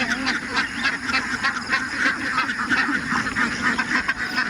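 A flock of farm ducks quacks continuously at close range, many overlapping calls forming a dense, busy chorus with no pauses.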